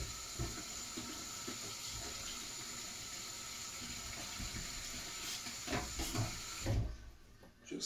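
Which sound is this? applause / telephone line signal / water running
water running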